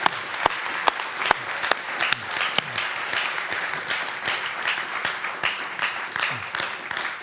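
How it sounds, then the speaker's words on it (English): Audience applause after a church talk on cultural reformation, a steady wash of many hands clapping at moderate loudness, with a few sharper individual claps standing out, continuing for about seven seconds with no voices over it. "Well, let's give a round of applause for Dr. West."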